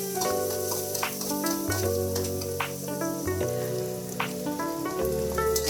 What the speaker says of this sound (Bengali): সেই পেঁয়াজ কুচিটা দিয়ে নেড়ে নিব।